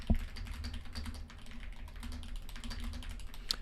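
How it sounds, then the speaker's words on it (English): Rapid keystrokes clack steadily on a magnetic-switch mechanical keyboard, close and fairly soft, with a low hum underneath and one sharper click near the end. "It's a magnetic switch mechanical keyboard. Now this keyboard is freaking dope."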